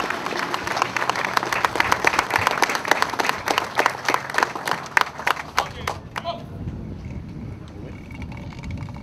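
A crowd applauds at a formal gathering, dense steady clapping for about six seconds before it tapers off into scattered claps and room murmur.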